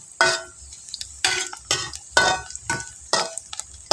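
Anchovies fry in a pan on a home stove, with rhythmic bursts of stirring and scraping about every second over a steady low sizzle.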